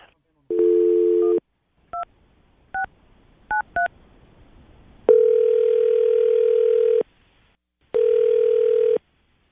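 A landline phone goes off-hook with a steady dial tone, then a quick run of separate touch-tone key beeps is dialed, followed by long ringback-style tones with pauses, clear and close.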